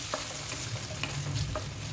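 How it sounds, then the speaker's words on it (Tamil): Small onions sizzle steadily in a hot pan for brinjal pickle while a spoon stirs them with soft, scraping strokes. "சின்ன வெங்காயம் நல்லா வதக்கி எடுத்துக்கலாம்"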